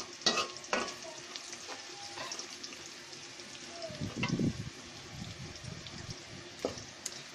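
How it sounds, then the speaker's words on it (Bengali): Onions fry in a pan for khichuri with a soft sizzle, broken by clinks and scrapes of stirring and a brief burst of louder spattering midway, all fairly faint and close. "এখানে পেঁয়াজ ভাজার খুব সুন্দর ঘ্রাণ"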